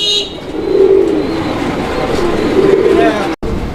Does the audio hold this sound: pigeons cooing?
yes